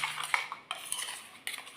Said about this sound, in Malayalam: നല്ല പോലെ സ്റ്റർ ചെയ്തെടുക്കാം.